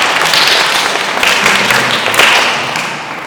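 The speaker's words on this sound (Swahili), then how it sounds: "Mgeni makofi" Sustained applause from a crowd greeting a guest at a church gathering, a steady dense clatter of clapping that holds loud throughout, with slight swells and no speech.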